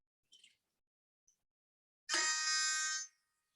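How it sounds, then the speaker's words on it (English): A liquid level indicator hooked on a cup sounds a single loud, continuous electronic buzz of about a second while coffee is poured, after faint pouring sounds and a tiny click. "When I pour my coffee, it's gonna tell me when to stop by beeping."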